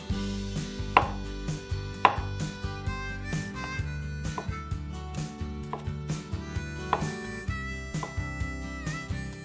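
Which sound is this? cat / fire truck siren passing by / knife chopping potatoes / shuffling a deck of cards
knife chopping potatoes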